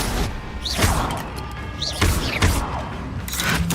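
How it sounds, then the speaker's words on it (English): Levitation spell in Hogwarts Legacy, heard as a series of whooshing casts and heavy thuds spread over a few seconds, amid swishing magical effects and other combat noises. "Levioso!"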